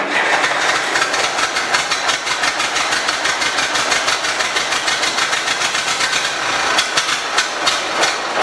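An old tractor engine after a points adjustment, loud and near, running with a rapid rough chugging beat and clattering, sputtering irregularly toward the end.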